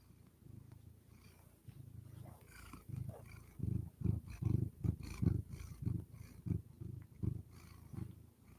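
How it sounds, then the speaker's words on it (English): A house cat purrs up close indoors, starting soft and low, then swelling into a stronger, evenly pulsing rumble in regular breath cycles, with no voices. "Can you guys hear her purrs good?"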